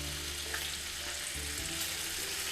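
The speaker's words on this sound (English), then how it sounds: "Not cooking the bacon too fast, otherwise it's going to be raw on one side and burn on the other side." Bacon frying in a pan over medium heat, a steady close crackling sizzle that holds even throughout without talk.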